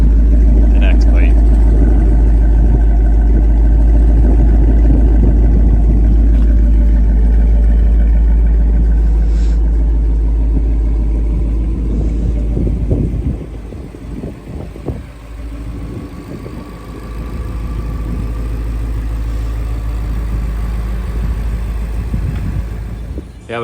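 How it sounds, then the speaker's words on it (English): A Shelby GT350 engine with factory exhaust idles smoothly and quietly at a steady low rumble, then dips and settles into a softer idle while people talk over it. "Super quiet, super smooth. It's factory exhaust minus an X plate."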